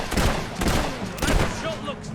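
Gunfire in Fable 3, several rapid loud shots in quick bursts close by, with a voice talking briefly over them.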